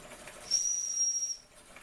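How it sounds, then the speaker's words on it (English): A Jensen 75 model steam engine's whistle blows one steady, shrill, sustained note for nearly a second, with a soft hiss of steam around it and no voices. "That whistle's working fine."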